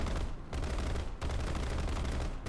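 Rapid aircraft cannon fire from a Firecrest in War Thunder, loud dense bursts with two brief pauses before the guns open up again, steady and close.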